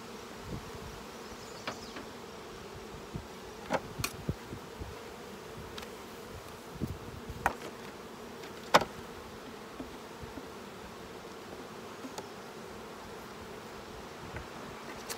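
Honeybees buzzing around an open beehive during an inspection to prevent swarming; a steady, fairly quiet hum with scattered brief louder passes and knocks, and no voices.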